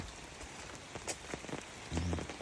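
Light rain falls at a country garden house, a soft, steady patter with occasional louder drips and a low rumble rising toward the end.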